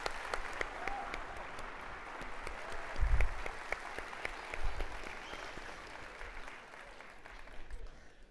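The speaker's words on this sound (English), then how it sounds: "Can you please join me in a round of applause?" Sustained audience applause fills a university graduation ceremony hall, a dense steady clatter of many hands clapping for over eight seconds, with a couple of louder swells partway through.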